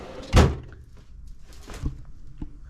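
A home toolbox drawer pulled open, one loud close thunk followed by softer metallic knocks and rattles, with no talk.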